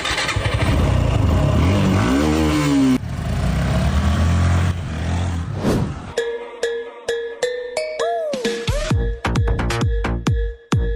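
Several motorcycles rev loudly and ride off, engines roaring for about six seconds before dropping away into a sparse run of sharp clicks and short tones.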